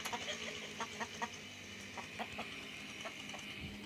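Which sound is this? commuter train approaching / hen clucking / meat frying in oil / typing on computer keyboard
hen clucking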